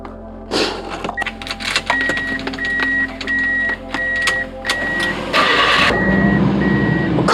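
Subaru Sambar TV1 starter cranking after an ignition switch replacement, with a repeating warning beep over it, then the engine catches and settles into a loud, close idle.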